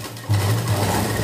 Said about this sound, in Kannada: ಈಗ ಈ ಮಧ್ಯದಲ್ಲಿ ಇಲ್ಲಿ ಮಿಡ್ಲೊಂದು ಹೊಲಿಗೆಯನ್ನು ಹಾಕ್ಕೊಳ್ಳೋದು